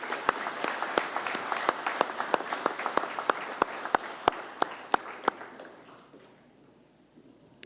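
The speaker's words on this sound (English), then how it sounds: "Let's give our faculty members and university staff members a round of applause" An audience at a graduation ceremony applauds faculty and staff, a dense wash of clapping with a few sharp nearby claps standing out, fading away over the final seconds.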